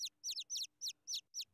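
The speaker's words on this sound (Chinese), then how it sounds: "真好听，小鸟们是不是在边吃晚饭边聊天呢？" Small cartoon great tits chirp in a lively run of about seven quick, bright double-noted calls spaced at an even pace, close and clear with no talk over them.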